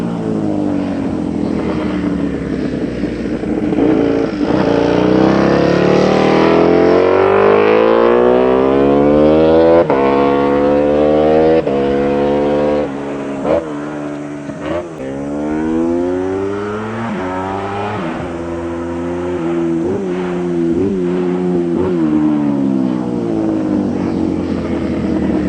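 A high-revving V-engine motorcycle, a powerful late model rated up to 240 horsepower with a top speed above 330 km/h, roars loudly and steadily with rising and falling engine pitch throughout.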